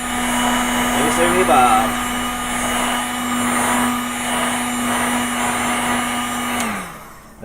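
A heat tool blows hot air to dry paint on a Pegasus Hobbies War of the Worlds model kit, a steady close whirring hum that cuts off near the end, with a brief voice over it early on.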